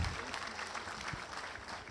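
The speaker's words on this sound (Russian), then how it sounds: "Аплодисменты, друзья." A short burst of dense audience clapping at a Nogai cultural evening in a Ramadan tent in Moscow, steady and fairly close, lasting about two seconds.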